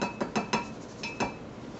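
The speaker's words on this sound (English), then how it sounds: "I just kind of whisk it around" A whisk clinking against a bowl while stirring a dry bath fizzy mixture: a handful of light, quick metallic taps in an uneven rhythm, close and fairly soft.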